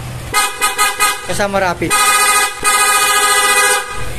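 Loud aftermarket car horn honks on a Toyota TDD Night Ranger, several short bursts followed by two long sustained blasts, with a voice speaking briefly between them.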